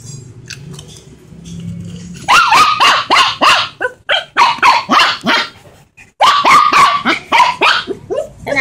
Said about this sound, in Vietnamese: Sao này sủa dữ con?